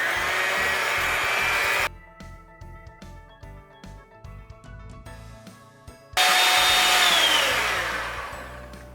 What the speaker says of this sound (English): Now we're just going to go ahead and mix this until we have a whipped cream consistency.